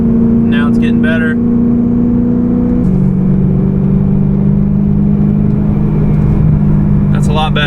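A BMW M3 fitted with cheap $27 mufflers cruising at 3,000 RPM in fourth gear, giving off a loud, steady low exhaust drone inside the cabin that shifts pitch slightly midway, with brief voices near the start and end.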